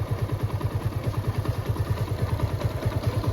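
Apache RTR motorcycle engine idling steadily up close, a smooth, even low thumping pulse with no knocking, running alone without talk.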